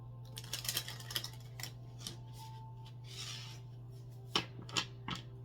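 Tarot cards are shuffled by hand in a quiet room, moving from light riffles to a harder shuffle, with soft papery bursts and a few sharper snaps near the end over a steady low hum.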